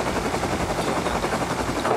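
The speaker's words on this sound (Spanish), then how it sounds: "Tira para el helicóptero, rápido." Helicopter in the video game Rust, a dense, steady rotor and engine roar filling the whole clip, with rapid chattering bursts resembling gunfire mixed in throughout.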